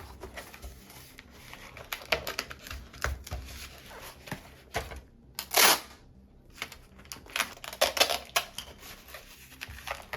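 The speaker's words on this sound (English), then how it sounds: "Throw a piece of tape on there lengthwise." Packing tape pulled and pressed onto a homemade cardboard DVD mailer, heard as a series of sharp crinkling rips and taps close by, with one louder tearing burst midway and quieter handling noises around it.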